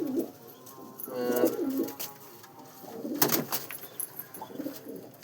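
Pigeons coo in soft, throaty bursts close by, with a few short chirps and rustles between the calls.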